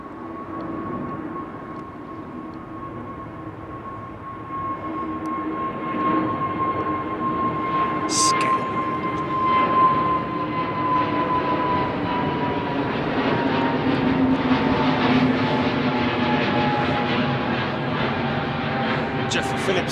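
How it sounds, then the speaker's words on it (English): A jet aircraft taking off at London Heathrow Airport, a steady engine roar with a droning tone that builds gradually in loudness, heard from a distance with no talking. "that sudden surge, that lurch from that aircraft as he left the ground"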